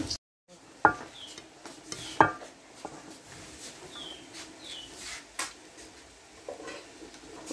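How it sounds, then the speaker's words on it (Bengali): Vegetable bhaji fries in a pan, with a faint, steady sizzle under scattered stirring scrapes and a few sharp utensil knocks against the pan. "প্রথমে ভাজিটা ভেজে নিচ্ছি"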